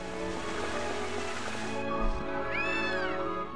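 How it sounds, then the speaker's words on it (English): A cat in the video game Gravity Rush gives a clear rising meow over looping background music and ambient game sound, loud and close with no talk. "Cat doesn't speak English. Just says purr."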